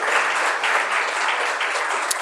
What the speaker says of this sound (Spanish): dar un aplauso al Señor, porque esa victoria